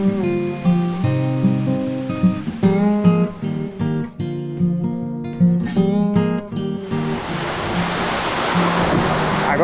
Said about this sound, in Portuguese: Cachoeira São Jorge!